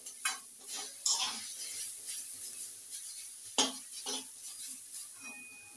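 Grass pea greens (khesari shak) frying in a kadai and being stirred, with soft sizzling under repeated scraping and clinking strokes of the spoon against the pan, several sharper knocks standing out, no talking.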